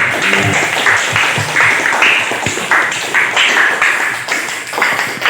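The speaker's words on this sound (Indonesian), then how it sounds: "kita beri tepuk tangan" A small audience at a religious talk gives a round of hand clapping, steady and fairly close, lasting the whole five seconds.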